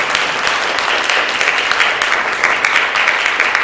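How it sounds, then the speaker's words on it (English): An audience claps and cheers for performers who shared their stories at an evening event, a loud, dense, sustained burst of applause with no pauses. "I want to give a big round of applause to all of you guys."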